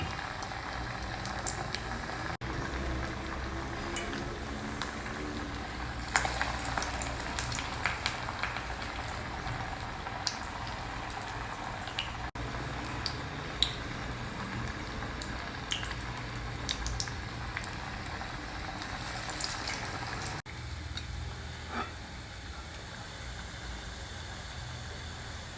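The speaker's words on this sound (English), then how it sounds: "Drop it in this hot oil." Vada dough fritters sizzling steadily in hot oil over a medium flame, a dense continuous crackle and bubble that stays close and even throughout, with brief clicks and small pops scattered on top and no talking.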